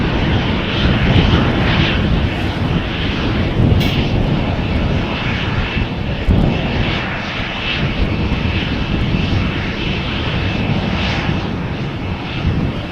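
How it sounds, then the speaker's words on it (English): A 22-year-old Transavia Boeing 737-800 jet departs Amsterdam Schiphol's runway 36L, its engines giving a loud, steady broadband roar that holds without a break throughout. "This is a Transavia flight, a 737-800 going to Alicante, 22 years old"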